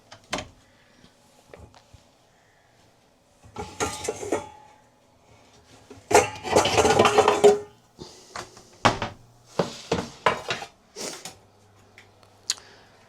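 Pans, dishes and cutlery clatter in bursts while bacon is cooked in a separate pan, with loud clanking clusters and quieter knocks spread across the stretch and no talk.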